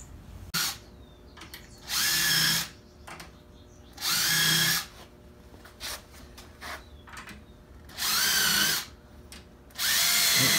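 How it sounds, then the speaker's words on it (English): A power drill with a self-centering bit bores a pilot hole for a hinge screw, heard as four short whirring bursts of about half a second each, separated by quiet pauses with light handling noise, close and alone. "This little tool, believe it or not, centers the pilot hole where the screw goes."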